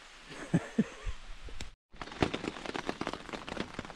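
Rain patters steadily on a roof over a camp on a long-distance hiking trail, a dense, continuous hiss of drops with scattered sharper taps and a brief dropout partway through.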